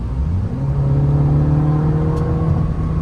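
A 2024 MINI Cooper S convertible's BMW turbocharged four-cylinder (189 hp) pulls steadily, a loud, continuous engine drone whose pitch climbs under acceleration with road rumble beneath.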